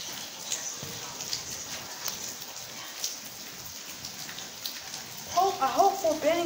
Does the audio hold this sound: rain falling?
yes